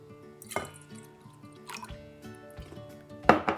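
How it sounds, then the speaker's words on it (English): Milk poured into a bowl of crepe batter, soft liquid splashes and drips with a few brief bursts, close by and fairly quiet. "Now I will add the milk."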